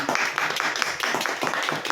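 An audience claps at a Shopnet business plan meeting, a dense, steady patter of many hands that carries on for the whole stretch without a break.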